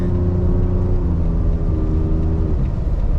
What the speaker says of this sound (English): I'm gonna go ahead and just roll on the throttle really quick right here.